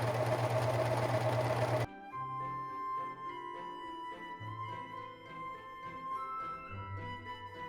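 A sewing machine stitches a turtleneck shoulder seam in a loud, steady whirring run of about two seconds, cutting off abruptly as music takes over.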